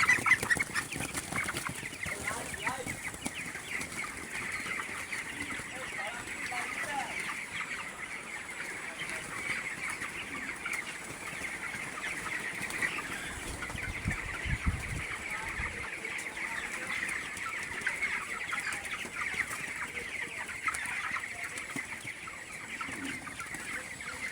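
Broiler chickens about twenty days old cluck softly and steadily in a poultry shed, a faint chorus of many birds murmuring throughout with no talk.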